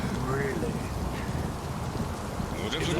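Steady rain in the video game Return to Blackwell, a dense, even hiss that runs through the whole stretch with faint voices underneath.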